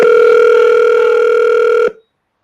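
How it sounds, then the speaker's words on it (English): A telephone sounds a loud, steady electronic tone that holds for almost two seconds and then cuts off sharply into silence. "I think I hear the phone ringing there"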